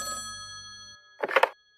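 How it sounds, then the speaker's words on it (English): A telephone rings in a quiet room, a single sustained bell-like ring with steady harmonic tones lasting about a second, followed by a brief louder rustling burst after a short gap. "the phone rang"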